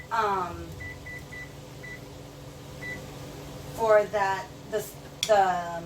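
An oven timer beeps several times in short, evenly spaced electronic bleeps while being set for 15 minutes in a home kitchen during lunch cooking, with someone talking before and after.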